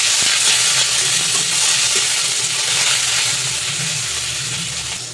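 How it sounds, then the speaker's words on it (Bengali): Chopped onion hitting hot oil with curry leaves, a loud, close, steady sizzle and hiss that fills the whole stretch without letup. "এবার এই ছোট ছোট করে কেটে রাখা পেঁয়াজটা দিয়ে দেবো।"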